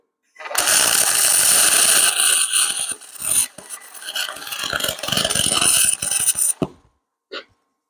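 Wire welding a cast aluminum lawnmower part, a loud, rough, sputtering arc crackle running about six seconds with a brief break midway, then a short pop after it stops.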